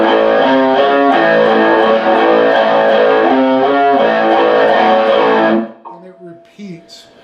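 An electric guitar with distortion plays an outro riff at slow lesson speed, a loud steady run of repeated chord stabs that stops after about five and a half seconds, followed by faint ringing and quiet noises.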